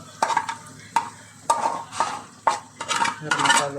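Semi-fried sausage being stirred into masala, with a spoon knocking and scraping against a metal pan in about six sharp, close strokes, and no talk.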